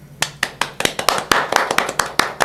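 Studio applause from a small group: a steady run of sharp, close hand claps, loud and alone, with no talk over it.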